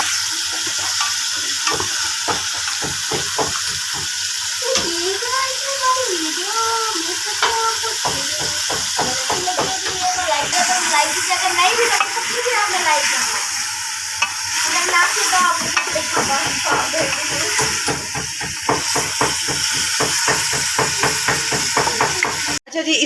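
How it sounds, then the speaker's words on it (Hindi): Meat frying in a pot with already-browned garlic and ginger, loud continuous sizzling with repeated scraping stirs and clatters throughout. "अब हम इसमें गोश्त डाल देंगे और इसको अच्छे से भून लेंगे।"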